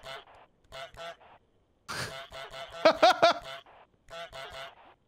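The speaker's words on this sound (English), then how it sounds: "I'm honking from the walkie-talkie" A goose honking over a walkie-talkie in Untitled Goose Game: bursts of nasal, radio-filtered honks in short runs separated by brief pauses, with a louder cluster near the middle.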